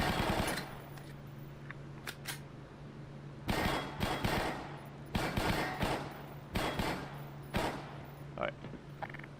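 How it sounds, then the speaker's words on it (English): A gun firing rapidly in an animated realistic Half-Life adaptation, quick clusters of sharp mechanical shots repeating in bursts over a steady low hum, moderately loud throughout. "I was holding down the trigger. I've set it to shoot that fast"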